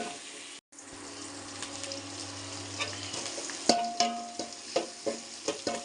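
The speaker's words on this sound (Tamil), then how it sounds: "வெங்காயம் நல்லா வதங்கட்டும்." Onions sautéing in a pan for a chutney give a steady broadband frying hiss, joined in the second half by a string of sharp clinks and scrapes from stirring, with a faint tonal hum early on.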